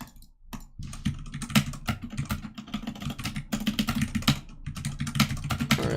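Rapid, uneven clatter of typing on a computer keyboard during a live coding session, close and steady throughout with brief pauses and bursts of keystrokes.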